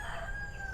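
A rooster crows nearby during a hot morning walk through a garden with blooming orchids, one sustained, clear call heard alone.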